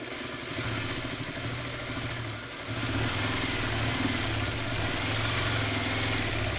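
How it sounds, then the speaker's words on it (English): A domestic sewing machine stitches along a quilt block seam, a steady mechanical whir running continuously and close, with a brief slowdown partway before it picks back up. "we'll just sew this over again"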